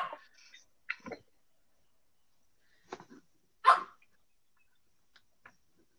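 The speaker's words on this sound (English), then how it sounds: "Is that a dog?" A dog barks a few times from a moderate distance, short separate yelps spaced out over several seconds in an otherwise quiet room.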